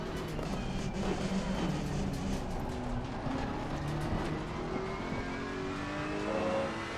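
Race car engine in the Assetto Corsa Competizione racing game, droning steadily with rising and falling pitch as it revs and shifts through the gears, heard alone at moderate level.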